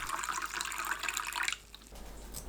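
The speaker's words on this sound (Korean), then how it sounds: "팥 삶은 물에 물을 더 넣어 총양을 600ml로 만듭니다." Water pours into a pot of cooking water from boiled red beans, a close bubbling, splashing stream that stops abruptly after about a second and a half, leaving quiet kitchen hum.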